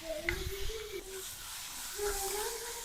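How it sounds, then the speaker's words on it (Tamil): Tomato and onion sautéing in a pan with curry leaves, a soft steady sizzle with faint hissing and a few tonal kitchen sounds running through, close and moderate in level. "தக்காளி பழம் வெங்காயம் எல்லாம் வதங்கிடுது"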